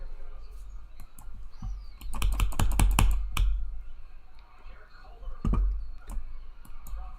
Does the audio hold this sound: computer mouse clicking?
yes